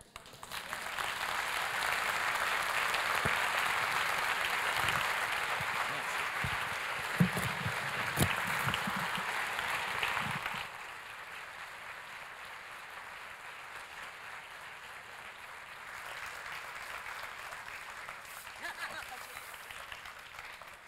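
Audience applause at a talk on ancient Roman theatres, a broad roar of clapping for about ten seconds that then drops to a softer, quieter murmur of room noise and scattered voices.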